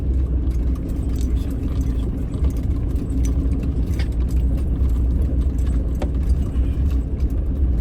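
Road traffic passing outside in the dark, a steady low engine rumble with faint jingling and ticking on top, fairly close and constant, no speech.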